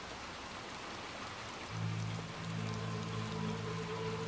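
Heavy rain falls in the video game Little Nightmares 2, a dense steady hiss of rain on surfaces throughout, with a low tonal drone joining partway in.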